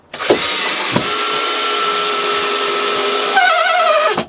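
A power drill drives screws into a wooden pallet, one loud, close, sustained whine lasting about three seconds, with short clicks at the start and a rising pitch near the end.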